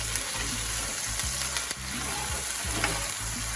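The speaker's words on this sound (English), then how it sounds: "Just have to saute that for a quick minute." Steady, close sizzling and crackling of peppers sautéing in a hot pan throughout, with occasional scrapes of stirring.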